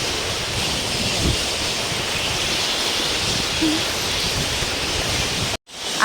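River water splashing and rushing at Attappadi, a dense, steady wash of noise close to the microphone that cuts out abruptly just before the end.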